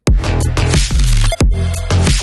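An electronic snare drum sample in a midtempo beat hits sharply with no reversed sweep before it, giving repeated punchy, loud, close strikes over a dense backing with no talking.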